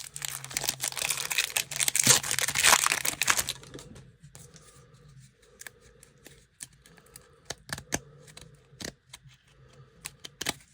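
Baseball trading cards from a 1992 Ultra pack are handled and separated: a burst of close crinkling and shuffling, then quieter intermittent flicks and ticks as cards are slid apart, with no talking.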